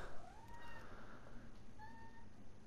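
Two soft meows from a domestic cat, close by in a quiet indoor room against steady low background hum.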